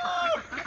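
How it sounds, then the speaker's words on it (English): A rooster crows in a chicken flock that is being moved to a new coop, the call close and clear with a bright rising-falling tone lasting under a second. "you'll still notice, with the rooster crow"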